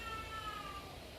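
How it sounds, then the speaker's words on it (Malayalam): A house cat meows during a quiet morning at home, a few thin, faint cries standing out over a low background hum with no talking. "പൂച്ച കരയണതാ."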